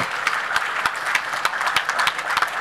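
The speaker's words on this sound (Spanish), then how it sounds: "fuerte ese aplauso" An audience at a groundbreaking ceremony for an Arizona Diamondbacks baseball complex applauds, a steady wash of clapping with distinct individual hand claps popping through, moderately loud and without talk.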